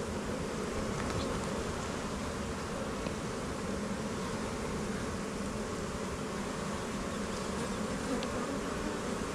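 Honeybees buzzing around a hive set out for almond pollination, a dense, continuous drone of many insects close by, steady and unbroken with no talking.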